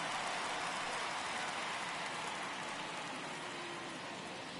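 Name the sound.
rain falling on a baseball stadium in a baseball video game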